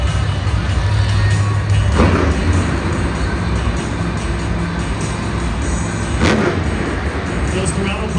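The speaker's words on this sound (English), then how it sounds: "Those throttle pumps mean he's ready." A monster truck engine at the Monster Jam World Finals XXIII gets sharp throttle pumps: a loud, deep rumble broken by two bursts of revving, under arena noise and an announcer talking.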